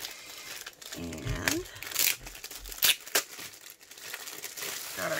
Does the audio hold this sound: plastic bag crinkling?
yes